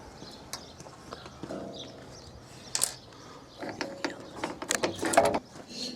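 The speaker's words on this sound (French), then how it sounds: "Et là on visse la dernière." Screws being driven into a pergola rafter, faint mechanical whirring of a drill driver with brief bursts and clicking ratchet-like rattles, rising louder toward the end of the short stretch.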